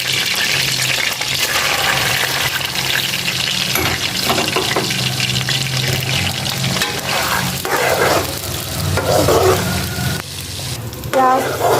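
Chopped onions dropped into hot ghee in a pan, sizzling loudly with a broad steady hiss while stirring and scraping clatter in, no talk.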